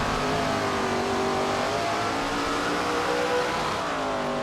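Several race cars accelerate together at the green flag in SRX The Game, a dense, steady engine roar with rising revs that fills the whole moment, loud and continuous with no talking over it.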